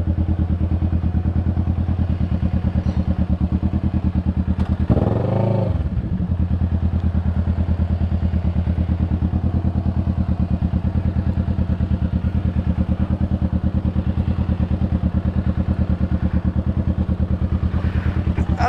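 A motorcycle engine idles steadily nearby, a loud constant rumble with a brief clattering thump partway through.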